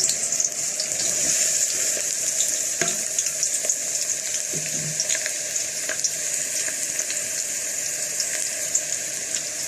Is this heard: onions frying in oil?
yes